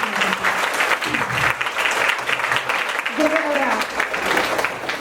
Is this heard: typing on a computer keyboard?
no